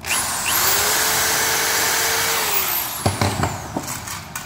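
A power drill whines steadily for a few seconds while driving a screw into the end grain of a birdhouse roof board, then stops, followed by a few sharp clicks and knocks.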